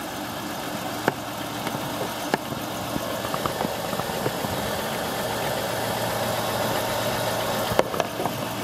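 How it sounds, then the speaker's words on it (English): A 2010 Chevrolet Impala, jump-started with a jump box, idles steadily with a low mechanical rumble and a few sharp clicks or knocks, heard up close with no talking. "The vehicle is currently running at this time."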